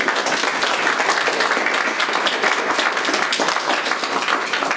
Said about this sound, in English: I'd like to give a last final round of applause for these community leaders